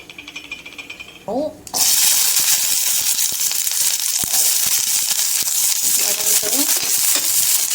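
Large tomatoes hit hot oil in a kadai-style pan and break into a loud, steady sizzle, with stirring clatter and metal taps throughout and a voice heard briefly before the frying starts.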